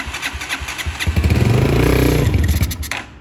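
A black CG motorcycle engine idling, then revved as the throttle opens, a loud close rising roar with a throbbing pulse that swells for about two seconds and drops back.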